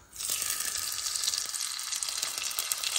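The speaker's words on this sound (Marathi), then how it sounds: "सांसवां फुटपा लागतकीर" Mustard and fenugreek seeds spluttering in hot oil for a fish curry, a sizzle that swells quickly and then holds steady and bright, with scattered small pops throughout.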